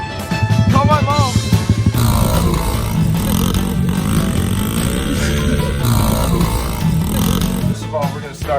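A Yamaha Big Wheel 80 motorbike engine running as it is ridden, a loud, chugging, tractor-like drone that rises and falls, with talk over it.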